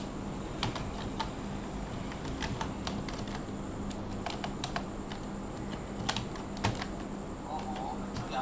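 Keys on a computer keyboard are tapped in quick, uneven clicks over a steady background hum, fairly close and moderately loud.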